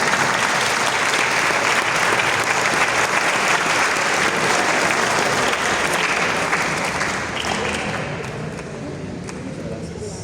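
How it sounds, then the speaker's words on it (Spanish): A parish community at Santa María Goretti church gives sustained, loud applause, a thick roar of many hands clapping that holds steady for most of its length before tapering slightly near the end. "Un aplauso."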